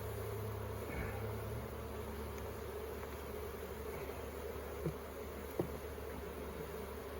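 Honey bees hum faintly and continuously inside a hive, a steady low drone with a couple of soft knocks near the end.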